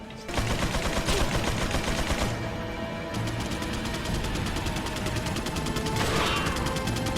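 Sniper rifle fire in Resident Evil 4, with loud sharp shots over a dense, noisy game soundscape that continues for several seconds with no voices.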